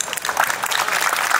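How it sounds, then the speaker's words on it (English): An audience at a memorial service gives a round of applause, a dense, steady wash of clapping that holds at an even level, with no voices over it. "If you could give them a round of applause."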